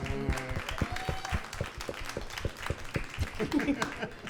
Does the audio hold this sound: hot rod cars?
no